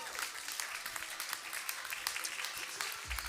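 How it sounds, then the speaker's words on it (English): Applause from a crowd at a Thanksgiving dinner as a group of women leaves, dense steady clapping filling the room throughout, fairly distant. "let's give them a round of applause one more time"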